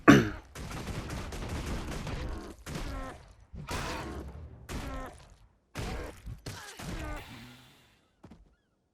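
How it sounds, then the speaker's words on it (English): Dual pistols firing a rapid Unload skill in the Guild Wars 2 MMO as a thief, heard as several quick bursts of shots in close succession with short gaps, loud and near, with a voice talking between bursts. "you're basically just firing both your pistols"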